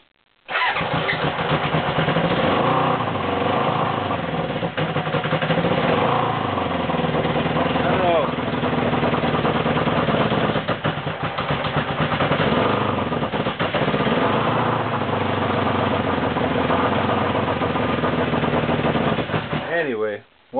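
A 1979 Honda 750 K motorcycle engine runs close by with a rough, uneven idle, its throbbing exhaust note rising and dipping over a sustained stretch without talk.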